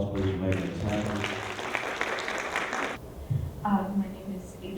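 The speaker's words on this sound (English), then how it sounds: "Would you give them all a round of applause, please, for making this happen?" A concert audience at a school final concert applauds, a dense wash of clapping for about three seconds that then fades out, with voices murmuring underneath.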